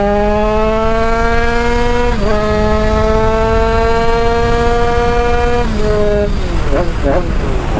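100cc 2Fast two-stroke engine of 35 hp, loud and close, holding a high buzzing whine with strong harmonics, briefly dipping and recovering, then surging and wavering through rapid revs at the end.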